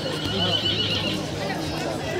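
Horses neigh and whinny in Wright Park, Baguio City, close by, with people talking over the noise and a faint clip-clop of hooves beneath.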